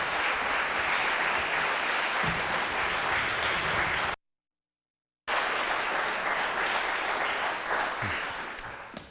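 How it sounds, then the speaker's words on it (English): Awards-show audience at a high school sports awards night applauding, a dense sustained wash of clapping that breaks off briefly in the middle, then resumes and slowly thins out. "Everybody, clap for yourselves."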